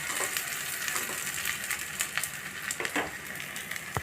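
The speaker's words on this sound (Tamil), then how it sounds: "பணியார சட்டி வச்சு கரண்டி எல்லாம் முண்டு ஊற்றிட்டேங்க" Sweet wheat flour paniyaram batter frying in a paniyaram pan, a steady close crackling sizzle throughout with a few sharper pops and spatters.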